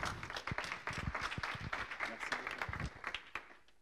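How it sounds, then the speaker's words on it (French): An audience at a regional digital cluster meeting claps to welcome a speaker, the applause dense and close at first, mixed with voices, then thinning and fading away toward the end. "merci de l'accueillir également avec quelques applaudissements"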